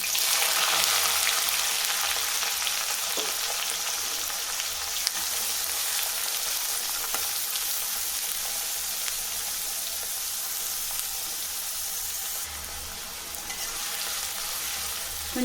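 Onions sizzle and fry steadily in a pan for a taro root fry, a continuous close crackling hiss with occasional stirring scrapes and no talk.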